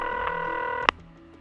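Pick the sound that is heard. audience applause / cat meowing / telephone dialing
telephone dialing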